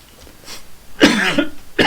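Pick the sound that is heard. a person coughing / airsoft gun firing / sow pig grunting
a person coughing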